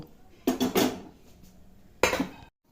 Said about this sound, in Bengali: এইবারে কড়াই বসিয়ে নিব